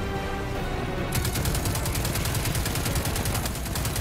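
Rapid automatic gunfire in the shooter game Destiny 2 on Xbox One, a dense rattling burst that starts about a second in and keeps hammering evenly to the end, loud and alone.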